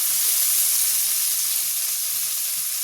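Vegetables and potatoes fry in a pan in a village-style kitchen, making a continuous bright sizzle with soft bumps and scrapes of stirring underneath, close and steady with no voices.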